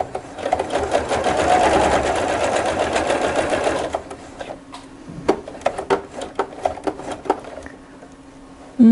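A sewing machine stitching around a zipper welt pocket, running in a steady dense burst for about four seconds, then slowing into separate single stitches and clicks as the fabric is turned at the corner.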